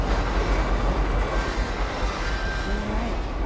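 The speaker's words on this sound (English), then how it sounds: "This is the only place that I've found so far that the train actually stops" Train in GTA V rolling along rails, a steady loud rumble with faint rail squeal, stopping at a station.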